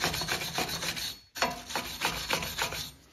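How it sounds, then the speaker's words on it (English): Rust is scrubbed off the wheel hub surface of a 2010–2015 Lexus RX350, a close, steady rasping rub in rhythmic back-and-forth strokes with a brief pause midway. "Clean up the hub surface really well."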